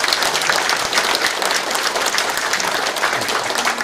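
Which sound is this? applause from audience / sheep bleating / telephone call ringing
applause from audience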